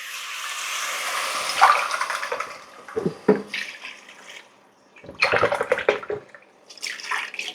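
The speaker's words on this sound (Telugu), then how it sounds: "సో ఇప్పుడు మనం నాలుగు గ్లాసుల నీళ్ళు వేసుకోవచ్చు" Water is poured into a pot for chicken biryani rice in a few splashing bursts with short pauses between them, close and fairly loud.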